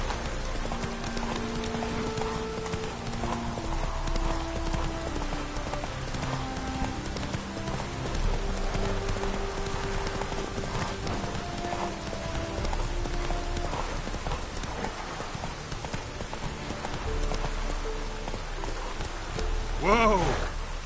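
Roach, a horse in The Witcher 3 video game, moving at speed with a rapid, steady run of hoofbeats that lasts throughout, mixed with game music and ambient noise.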